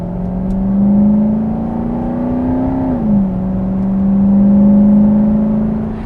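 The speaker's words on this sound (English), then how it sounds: "I really like the extra sound that this intake makes" A 2001 Lexus GS 430 V8 with an aftermarket intake accelerates, its loud engine drone rising in pitch, dipping briefly as it shifts, then climbing again, close and alone.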